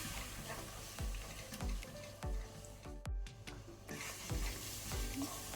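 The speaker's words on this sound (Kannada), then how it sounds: "ಒಳ್ಳೆ ರೀತಿ ಮಸಾಲವನ್ನು ನಾವು ಲೋ ಫ್ಲೇಮಲ್ಲಿ ಫ್ರೈ ಮಾಡ್ಕೊಳ್ಳುವ." Masala frying in a pot on low flame for a mixed vegetable prawn curry, a soft steady sizzle broken by a regular series of scraping stirring strokes, fairly quiet and close with no voices.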